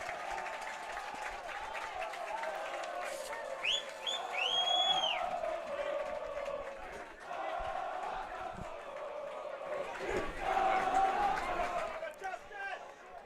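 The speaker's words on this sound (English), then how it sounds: "the crowd getting excited about that one" Lacrosse crowd at a boys' league championship, Haverford School at Malvern Prep, cheering and clapping after a goal, with whistles and shouts rising in two swells under commentator speech.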